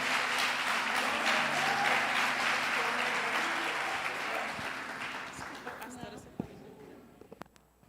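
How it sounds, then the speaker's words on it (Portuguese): A church congregation applauds warmly, with loud, dense clapping that slowly fades out, leaving a few scattered claps and knocks at the end. "Vamos dar uma grande salva de palmas."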